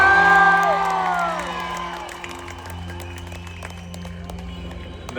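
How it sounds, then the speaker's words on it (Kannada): An audience at a live music show cheers, whoops and claps, loudest at the start and then fading into a lower crowd murmur with scattered shouts. "ಒಂದ್ಸಲ ಗಾಳಿಪಟ ಚಿತ್ರಕ್ಕೆ ಜೋರಾದ ಚಪ್ಪಾಳೆ"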